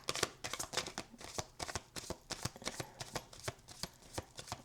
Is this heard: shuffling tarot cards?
yes